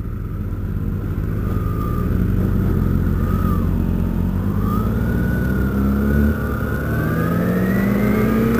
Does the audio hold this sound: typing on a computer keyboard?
no